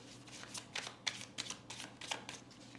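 Tarot cards shuffled by hand in a quiet room, a steady run of soft riffling bursts and light slaps repeating about every half second, close and fairly faint, with no talking.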